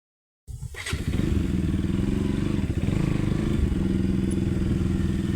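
A motorcycle engine starts and settles into a steady, loud, close idle, the rumble continuing without a break after a short silence.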